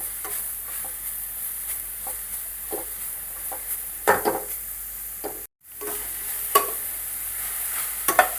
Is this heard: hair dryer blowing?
no